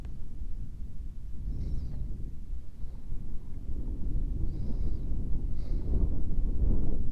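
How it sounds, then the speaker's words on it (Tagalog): Steady wind rushing across the microphone with low rumbling buffets during a motorcycle ride by a lake, continuous throughout, no voices heard. "Mahangin no?"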